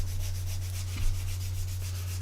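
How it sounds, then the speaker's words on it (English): A medium sanding stick rubbed over a small plastic part of a Revell 1/48 Tornado model kit, giving a soft, rhythmic scratching in quick repeated strokes over a steady low electrical hum. "So we're using a medium sanding stick."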